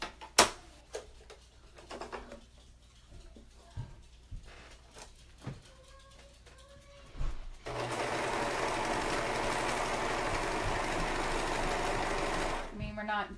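A serger overlocks the fabric edge of a maxi skirt, running as a loud steady whir for about five seconds after a stretch of quieter handling clicks and fabric movement.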